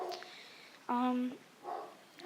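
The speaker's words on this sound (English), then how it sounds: "Sorry, my dog is barking so loud." A dog indoors gives one clear loud bark, with softer yips and vocal sounds before and after it, amid quiet room noise.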